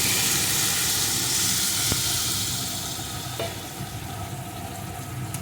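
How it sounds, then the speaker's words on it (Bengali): Warm water poured into a hot frying pan of fried spices while cooking small fish with gathi kochu, a loud steady sizzle and hiss that settles slightly quieter toward the end. "এখন এর ভিতরে আমি দিয়ে দেবো পরিমাণ মতো জল এখানে কিন্তু অবশ্যই আমি উষ্ণ গরম জলই দিয়ে দিচ্ছি"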